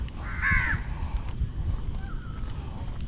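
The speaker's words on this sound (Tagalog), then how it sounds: "Daming uwak." A crow gives a loud, harsh caw nearby at Sungei Buloh Wetlands in Singapore, followed by fainter calls farther off over a low rumble of outdoor background noise.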